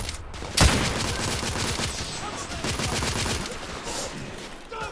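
Gunfire in The Order: 1886 on PlayStation 5, a sharp close shot followed by a rapid rattling fusillade of continuous shots, fading slightly near the end.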